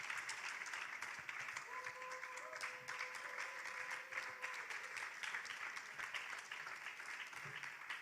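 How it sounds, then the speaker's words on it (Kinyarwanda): Applause from an audience at a church gathering, a steady, fairly faint wash of clapping that runs for the whole stretch. "Mutwishimire, mudukomera amashyi."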